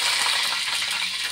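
Mustard seeds crackle and sizzle steadily in a spoonful of hot oil in a pan while cooking a ridge gourd vegetable dish, a close, continuous fizzing hiss with fine popping throughout.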